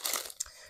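A plastic bag being opened inside another bag of mailed goods gives a brief burst of bright crinkling and rustling, close and fairly soft, followed by a small crackle.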